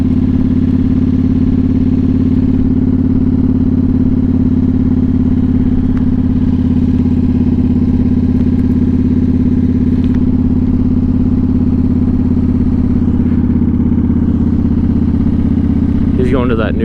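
A motorcycle engine drones steadily at a constant, loud pitch while riding on a road toward a new development, with a voice talking over the ride.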